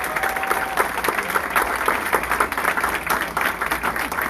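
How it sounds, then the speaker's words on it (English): Sustained audience applause at a political event hosted with the Committee on Present Danger: China, dense clapping filling the room steadily at a loud, even level with no talk over it. "big round of applause"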